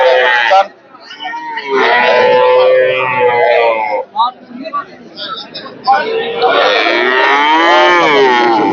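Calves at a cattle market low and moo repeatedly in long, loud drawn-out calls, several overlapping close by, with breaks between bursts.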